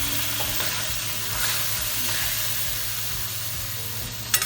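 Kangkong vegetables sizzle and crackle steadily in hot oil with oyster sauce and fish sauce, a close, continuous frying hiss with light stirring.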